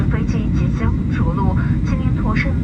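Airliner cabin noise during descent before landing at Chengdu's airport fills the clip with a loud, steady low engine rumble and airflow hiss, while a voice speaks over it throughout.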